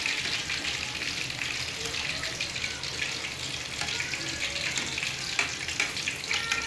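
Quail pieces deep-frying in hot oil for a Tamil kaadai fry, giving a steady, close, bright crackling hiss that holds even throughout, with small pops scattered on top.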